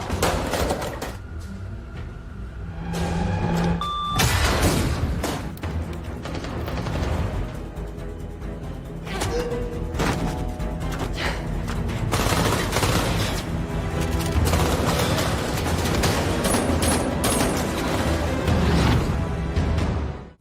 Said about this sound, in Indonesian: Black Team terus menerobos masuk ke dalam meskipun harus baku tembak dengan anak buah Ojawa.